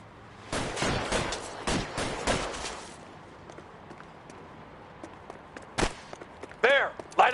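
Gunfire in the video game L.A. Noire: a rapid run of sharp, loud shots in the opening seconds, then a lull and a single isolated crack, with a voice calling out briefly near the end.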